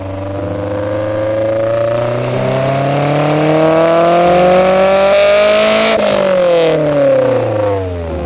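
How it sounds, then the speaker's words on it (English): A 2001 Honda S2000 with a loud aftermarket Apexi exhaust revs steadily higher through the gears, then drops off, harmonics climbing and falling, close and dominant. "Now I will show you this aftermarket performance Apexi exhaust, which sounds great."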